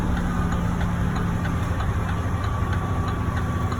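Steady low drone of a truck engine held in super low gear while coming down a hill, running evenly and continuously at close range with no talk.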